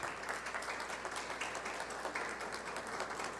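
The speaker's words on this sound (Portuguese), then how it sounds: "a quem eu peço uma salva de palmas" Ceremony audience applauding a new honorary citizen of Goiânia, a dense, steady patter of many hands clapping at moderate distance, continuous and fairly quiet throughout without pauses.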